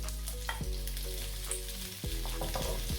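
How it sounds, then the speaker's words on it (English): Shrimp stir-frying in a hot pan gives a loud, steady sizzle with a few sharp clinks and scrapes from stirring. No voices. "So what I'm going to do first is I'm going to stir fry my shrimp."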